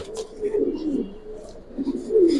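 Giribaz pigeons of an old Palla-line breed, large birds, cooing close by in soft, repeated throaty rolls that swell and fade over a few seconds.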